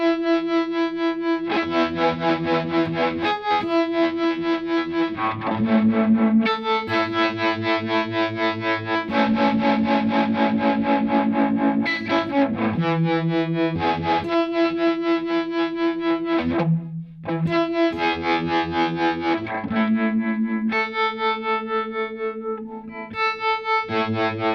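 Electric guitar played through JAM Pedals tremolo and vibe effects with overdrive, sustained distorted chords and notes pulsing and swirling steadily at a loud, close level without pause.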